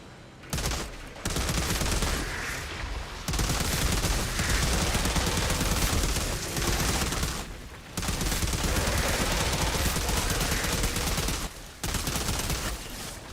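Sustained automatic gunfire in the shooter game Outriders, loud and close, fired in long continuous bursts broken by short pauses, with no talking.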